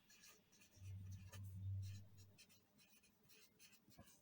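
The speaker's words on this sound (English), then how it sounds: "I am going to write it down here" Pen writing by hand on paper while a shear force diagram is drawn, a faint, close scratching with short strokes and small taps, and a low hum in the background partway through.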